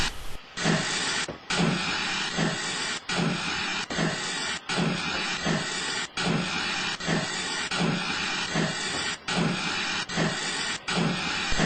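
A steam engine puffs steadily in a regular chugging rhythm, each burst of exhaust followed by loud hissing steam, close and continuous.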